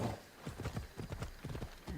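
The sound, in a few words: horse hooves, from video game Assassin's Creed Odyssey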